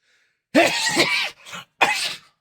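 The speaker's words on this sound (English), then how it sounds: "I warned you guys I'm going to be sneezing some." A loud sneeze bursts out, followed by a smaller sniff and then a second forceful sneeze, close and alone.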